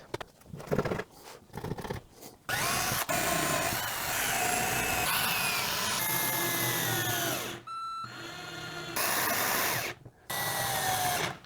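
A power drill drives screws into plywood couch and bed boxes in a minivan camper build, with bursts of whirring, steady runs of motor noise and brief pauses between screws, close and fairly loud.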